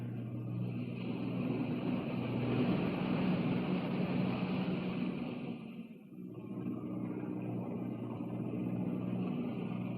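Boat engines running on the water, a steady loud droning hum with broadband wash that dips briefly midway before resuming.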